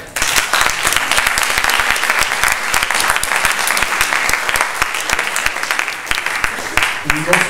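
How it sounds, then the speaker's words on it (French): A cinema audience at a film preview claps steadily and fairly close, a dense burst of applause lasting several seconds with a voice faintly present near the end. "Donc je vous demanderai d'applaudir s'il vous plaît."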